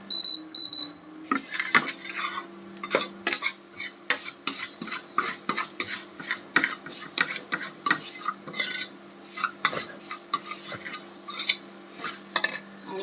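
A spoon scrapes and stirs ground coconut and coriander roasting dry in a pan, making repeated close rasping strokes in an irregular rhythm over a faint steady hum.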